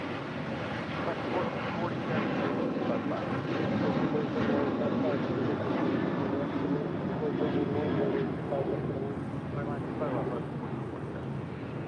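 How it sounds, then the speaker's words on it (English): A United Airlines airplane departs for Houston at LAX, a broad, distant engine roar holding steady and fairly faint against wind. "That was United Airlines Flight 644 heading to Houston"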